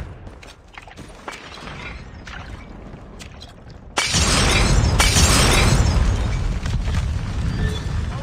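A grenade goes off in a video game as a sudden loud, close blast that stays at full level for several seconds of roaring debris, after quieter ambient game sounds.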